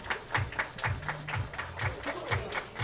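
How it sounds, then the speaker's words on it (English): Crowd at a baseball game in the IBL Finals, Welland Jackfish at Barrie Baycats, clapping in a steady rhythmic beat, about two claps per second, moderately distant and even, with no voices. "Everybody clap your hands."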